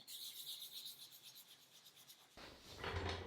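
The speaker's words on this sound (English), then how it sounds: "I wet sand all the way up to 3000 grit" Hand wet sanding of a nitrocellulose lacquer finish with fine paper up to 3000 grit, a steady close rasping rub that shifts to a brighter, denser scrubbing near the end, with no voices.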